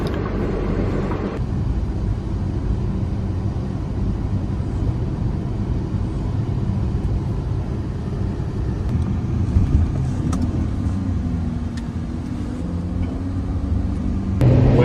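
An Aston Martin grand tourer drives along the roads of the French Riviera with a steady, loud engine drone and road roar that continue unbroken, with no voices heard.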